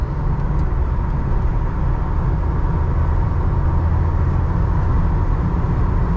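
A low-mileage original 1989 Ford Ranger with a manual gearbox cruising through the gears toward the highway, giving a constant loud drone of engine and road noise inside the cab without clear breaks at the shifts.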